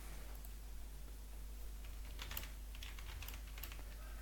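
Quiet typing on a computer keyboard, a scattered run of soft key clicks over a low steady hum.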